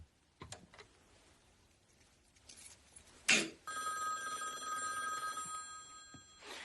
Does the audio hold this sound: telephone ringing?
yes